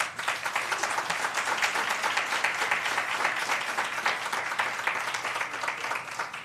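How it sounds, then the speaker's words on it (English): Audience applause at a Black History Month celebration, a sustained burst of many hands clapping at a steady level through the whole stretch, with no one speaking. "Could we give them a hand clap?"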